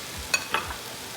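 Peas, carrots and green onion hit a hot wok for shrimp fried rice, a brief low sizzle with a couple of quick metallic scrapes of the spatula.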